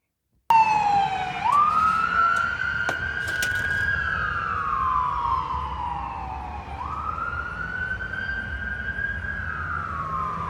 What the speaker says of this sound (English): there went another emergency vehicle down 47th Street